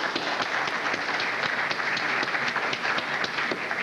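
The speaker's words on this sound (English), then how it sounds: "please, if you could take a minute to applaud yourself for all the great work you do" An audience claps steadily and evenly for a few seconds, making a dense, uniform patter with no single claps standing out.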